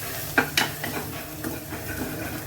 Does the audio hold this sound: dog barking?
no